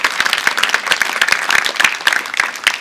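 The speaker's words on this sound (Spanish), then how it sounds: "Denle el aplauso al Señor en alabanza." A church congregation claps together in praise, a dense, steady burst of many hands close by with a lively, uneven rhythm and no talk over it.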